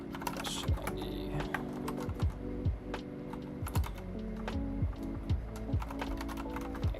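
Close, irregular tapping and clacking of computer keyboard keys in short bursts, over a steady hum with faint low thumps mixed in.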